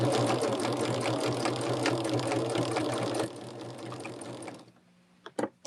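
Sewing machine stitching a woven star quilt block: a steady, fast mechanical whir with a rattle under it that runs loud and close. It slows and stops near the end, and a few clicks and handling knocks follow.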